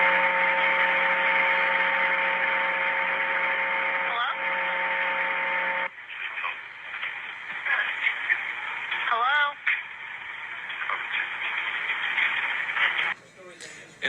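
A recorded phone call to a funeral home and cemetery in Pueblo, Colorado plays back as harsh static, first a steady buzzing tone, then crackling, warbling noise with abrupt shifts and dropouts, with a voice briefly heard.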